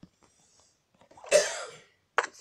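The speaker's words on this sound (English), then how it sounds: "It's just me coughing like this because I'm sick a little." A single harsh cough from a person who is sick bursts out in a quiet room, followed shortly by a brief second rasp.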